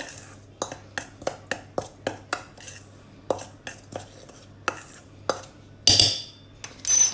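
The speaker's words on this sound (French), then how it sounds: "Je vais mélanger." A utensil scrapes and taps rhythmically against a bowl while stirring savory tart batter, producing sharp, regular clinks that are close and fairly quiet, followed by a brief louder clatter near the end.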